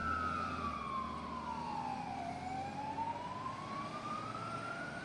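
Australian emergency vehicle passing with a wailing siren that sweeps down and back up over steady road and tire roar; faint and distant-sounding, no talk.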